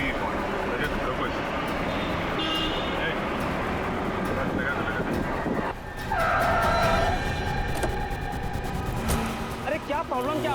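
A car braking hard with a skid in a tense street scene, a rough rush of tire noise that climbs into a sharp squeal midway, with loud traffic and ambience throughout.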